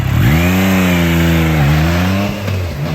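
A Triumph Trident 660 three-cylinder motorcycle engine revs loud and close, pitch climbing then holding steady, with a gear change dip near the middle and another shift toward the end, no speech.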